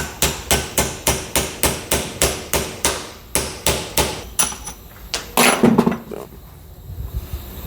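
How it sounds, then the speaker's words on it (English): A hammer strikes a pin out of a 1967 Porsche 912 suspension part, about a dozen sharp metallic blows in an even rhythm, then a few irregular knocks and clatter. "we're basically just gonna hit the pin out."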